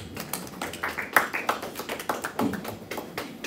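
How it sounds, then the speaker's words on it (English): An audience at a launch event gives a short round of uneven, patchy hand claps, with individual claps distinct rather than a full ovation; faint voices sit underneath. "Please, let's clap for them."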